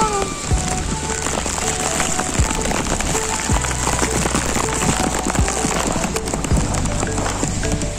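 The first rain of 2023 falls outdoors as a dense, steady patter of drops hitting surfaces, close and continuous, with a few brief louder knocks.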